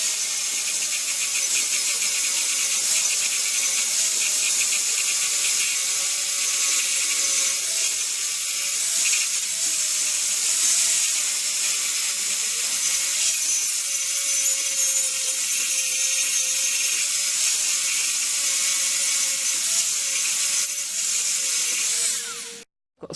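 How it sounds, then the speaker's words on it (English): An angle grinder tidies up a MIG weld on a bed repair, a continuous high whining grind that holds steady for over twenty seconds, close and loud, with slight shifts in pitch as it works the metal before cutting off abruptly. "now I'm going to take that onto the angle grinder and tidy that up"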